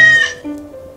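A short, tonal cat vocalization with a rising, chirpy start, then a softer trailing murmur, close and fairly loud.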